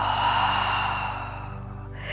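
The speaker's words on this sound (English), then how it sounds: "And exhale." One long, slow breath out during a guided breathing exercise, a soft airy exhale that fades gradually over a steady background hum.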